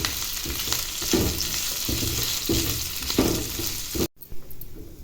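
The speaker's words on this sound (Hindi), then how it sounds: "अभी मैं अच्छी तरह इसे 1 मिनट फ्राई कर लेती हूँ।" Boiled, shredded chicken fries in a pan for a chicken bread roll filling, a loud steady sizzle with rhythmic scraping stirs, cutting off abruptly near the end, no talking.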